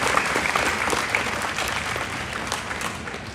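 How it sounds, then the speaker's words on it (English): An audience at a livestock show's grand champion market drive applauds the volunteers, a dense, steady wash of many hands clapping together for a few seconds, fairly close and even in loudness. "I think they deserve a big round of applause"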